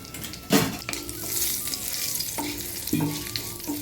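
Hot oil crackles and sizzles loudly as curry leaves and urad dal fry in a pan, with a sharp burst near the start and occasional clinks of a spoon against the pan.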